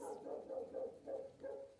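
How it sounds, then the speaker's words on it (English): A dog barks repeatedly in a steady rhythm, about five yips close by, mid-pitched and fairly loud, with no talking. "she will not stop barking."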